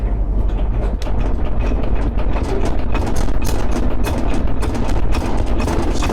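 An old engine with the choke on cranks in a cold start attempt, a loud continuous rumbling churn with rapid rhythmic pulses throughout, close by and without speech.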